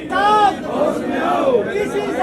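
Crowd of Congress party protesters chanting slogans together at a farmers' support demonstration in Sector 12, Karnal, a loud sustained group of voices rising and falling in rhythm.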